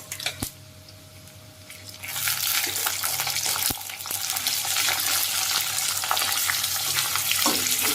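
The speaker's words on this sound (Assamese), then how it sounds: "তাৰ পাছতে এতিয়া মই ইয়াতে দি দিম মাংসখিনি" Pork meat added to hot oil with cumin and browned onions, quiet at first, then a loud steady sizzle and crackle of frying rising and holding close up, with a few stirring knocks.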